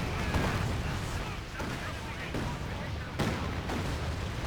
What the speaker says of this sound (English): White phosphorus barrages getting called in right in the center of the map